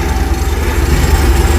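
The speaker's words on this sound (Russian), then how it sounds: "Трактор." A tractor engine runs during haymaking, a loud, steady low rumble with a pulsing idle throb close by, continuous and without voices.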